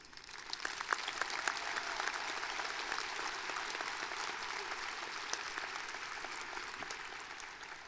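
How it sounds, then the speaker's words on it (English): Audience at a high school graduation ceremony applauding steadily, many hands clapping at a moderate distance in a sustained, even wash of sound with no talking. "please give a round of applause for our wonderful staff, friends, and families"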